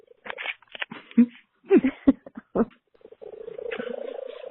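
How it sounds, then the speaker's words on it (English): Short broken vocal sounds, then a steady rhythmic purr that builds near the end, rough and close-up, coming from a cat. "When he purrs, it's a very strange purr."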